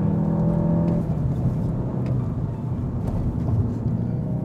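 A 2015 Volkswagen Golf GTI with the performance package and limited-slip differential pulls hard, its engine whir climbing and then blending into broad road and wind rumble, continuous and fairly close with no talking.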